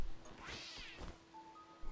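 Cat meowing in the video game Stray, a single drawn-out rising and falling meow, fairly close, with a faint electronic tone lingering afterward.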